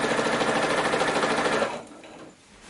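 A sewing machine runs steadily at a 2.5 stitch length, attaching binding to a quilted project, its close, loud whirring hum stopping just before the end, leaving quiet room tone.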